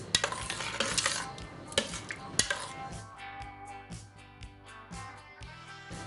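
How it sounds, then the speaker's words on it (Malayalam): A spoon scraping and knocking in a pot of millet payasam with coconut milk, several sharp metallic clinks and scrapes in an uneven rhythm, close and fairly loud, without talk. "ഒന്ന് മിക്സ് ചെയ്ത് കൊടുക്കാം."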